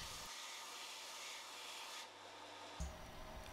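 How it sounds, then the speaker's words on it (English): A sander cleaning up cut wooden roof pieces gives a steady broadband rubbing hiss close by, dropping off partway through and then briefly picking up again near the end. "I can then take them over to the sander and clean them up"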